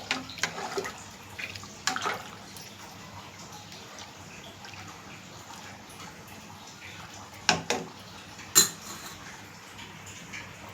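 A spoon stirs tamarind juice into vegetable sambar in a pot, making soft liquid swishing with occasional sharp clinks of metal against the rim, quiet and near, without speech.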